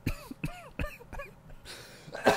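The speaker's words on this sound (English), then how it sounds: "Everyone's coughing" Several people cough and clear their throats in a quick cluster of sharp bursts during a podcast recording, fairly close, followed by a faint murmur and a brief rustle.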